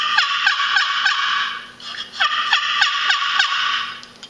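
Repeated high, raspy yelps imitating hen turkeys on a paddle box call come in quick bursts, a pause, then more sequences, loud and close.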